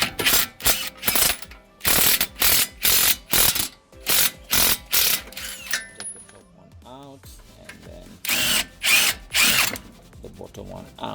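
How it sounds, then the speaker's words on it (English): An impact wrench fitted with a 7/8 socket hammers out bolts on a 2007 Toyota Sienna passenger-side CV axle, loud close bursts repeating in quick succession, pausing, then firing again. "We are going to use our 7/8mm socket right there with the impact wrench."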